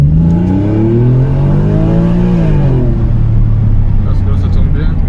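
A Porsche 911 Carrera type 996 pulling hard under acceleration, its loud, close engine note climbing in pitch for a couple of seconds, then easing back and settling into a steady lower drone.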